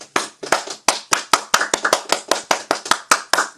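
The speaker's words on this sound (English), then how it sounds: "The clapping is bona fide, actually." A few people clap by hand after a Srimad Bhagavatam reading, producing sharp, close, individual claps in an uneven rhythm, about five per second, with no talking.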